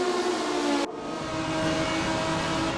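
A non-turbo R51 race car in RaceRoom howls at high revs around Suzuka, a loud, sustained tonal engine whine that drops in pitch after a brief dip as it shifts, then holds steady with no voices.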